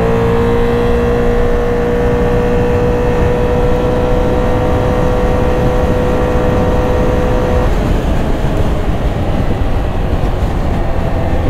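A Can-Am Outlander XT-P 1000 R ATV pulls hard at full throttle from about 45, a loud close engine drone rising in pitch over heavy rumble and wind noise.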